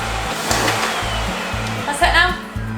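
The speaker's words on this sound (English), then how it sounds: "It's Miek using a vacuum cleaner." Household vacuum cleaner running in a new house, a steady motor whine pulsing in a regular rhythm as the nozzle moves, loud and close, alone without talk.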